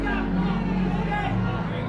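A sold-out Dallas boxing arena crowd buzzing steadily with babble and murmur, continuous and fairly loud beneath a commentator talking.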